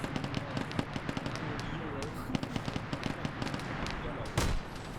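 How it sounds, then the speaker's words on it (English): Heavy bolter sponson on a Leman Russ tank firing in a Warhammer video game, a dense run of sharp rapid shots over a constant rumbling battle bed, with a louder blast near the end. "The Sponson is shooting up at him."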